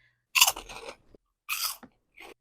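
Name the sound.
crunch of chewing black pepper pork rinds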